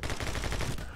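A short, quick burst of gunfire from the action shooter My Friend Pedro, several rapid shots packed into about a second, fairly quiet and close with no talking over it.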